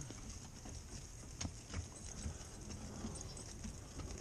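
Slow, soft hoofbeats of a Nonius horse walking in an obstacle arena, a few distinct clops spaced apart over a quiet outdoor background with faint hiss.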